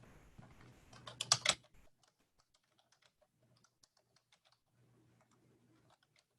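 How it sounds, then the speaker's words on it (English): Keystrokes on a computer keyboard as a description is typed into a field, a quick loud burst of clicks first, then sparse, faint taps spread out after it. "now we're going to click inside here and type a description"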